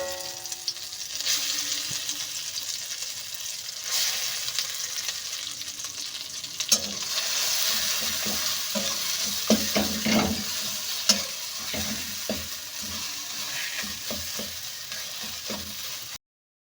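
Green pea paste fries in hot oil with nigella seeds in a wok, a constant sizzle overlaid by repeated scraping and stirring knocks that grow busier in the second half.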